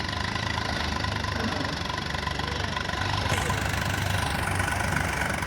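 A low, steady engine idle chugs continuously, close and fairly loud, with no voices and a slight rise in level partway through.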